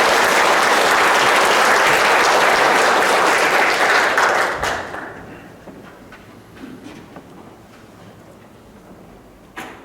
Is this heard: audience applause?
yes